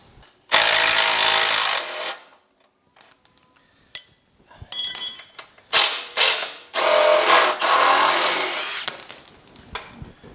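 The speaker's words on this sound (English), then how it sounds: "All right, let's get those bottom bolts out." A ratchet wrench loosens the bottom bolts on a Pontiac GTO restomod chassis, sounding as loud, close bursts of rapid clicking separated by short pauses and single metallic clinks.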